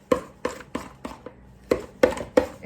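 Dill pickle keto cracker dough, with the texture of wet sand, gets stirred in a bowl: seven sharp, close knocks of utensil against the container at a quick uneven rhythm, with a short pause midway and no talking.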